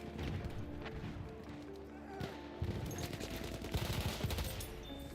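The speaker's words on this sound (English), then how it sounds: "Enemy machine gun sighted." Machine gun fire in the video game Battlefield 1, dense distant rattling bursts mixed with chaotic battle noise and running, with a voice speaking over the busy combat.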